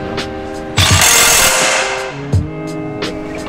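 A Makita cordless impact driver runs in a tool showroom, hammering in rapid bursts, switching to reverse and winding down after impact; close, with brief sharp clicks and no talk.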